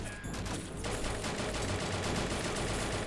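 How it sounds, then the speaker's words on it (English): Sustained automatic fire from a Browning Automatic Rifle (BAR) in the World War 2 video game Soldiers: Heroes of World War 2, a dense, continuous rattle of shots at steady loudness with no talking. "Yep, it's a BAR."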